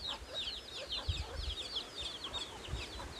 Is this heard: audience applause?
no